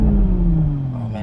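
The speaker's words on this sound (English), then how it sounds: "Oh yes, that straight six sounds very good." A 2021 Toyota Supra's straight-six engine idles with a steady low, smooth drone, close and fairly loud, a voice talking over it.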